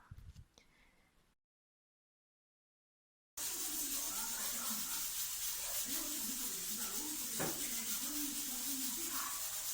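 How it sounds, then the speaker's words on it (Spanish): Steam escaping from a pressure cooker fitted with a pressure gauge: a brief quiet stretch, then a loud, steady, broad hiss that continues without a break. "suena ese vapor, la salida del vapor es lo que está sonando"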